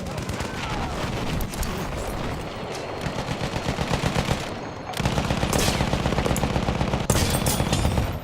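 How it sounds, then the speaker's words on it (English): A Lewis gun machine gun in the Battlefield 1 video game fires in rapid, sustained bursts over several seconds, loud and close, with further gunfire and battle noise mixed in. "Okay, this Lewis gun is very good now."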